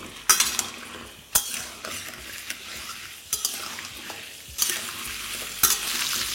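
Peeled potatoes fry in oil over a medium flame, a constant close sizzle broken by sharp metallic scrapes and clinks of a spatula against the pan every second or so, with no speech.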